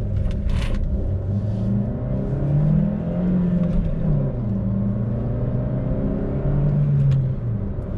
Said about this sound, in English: I'm gonna do a little bit of city driving, a little bit of highway driving